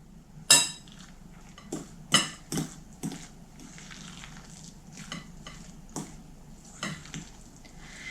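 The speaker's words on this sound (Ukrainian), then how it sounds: "Борошно буду додавати поступово, вмішувати." A spoon works flour into cottage cheese dough for lazy dumplings in a bowl. Several sharp clinks and scrapes come at irregular intervals, with quieter stirring between them.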